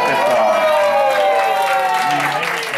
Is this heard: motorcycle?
no